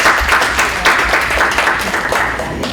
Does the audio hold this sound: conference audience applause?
yes